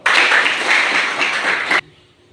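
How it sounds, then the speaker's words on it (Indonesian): An audience of students bursts into brisk applause at a school event, a loud, even wash of clapping that runs under two seconds and cuts off abruptly. "Tepuk tangan dulu dong"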